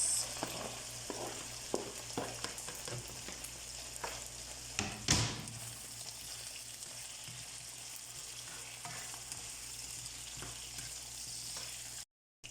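Chicken and carrots sauté for pancit, a soft steady sizzle in a pan with occasional stirring scrapes and one louder clatter.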